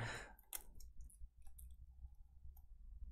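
A professional utility knife clicks a few times during an unboxing, sharp close clicks with short gaps between them, quiet and alone with no talking.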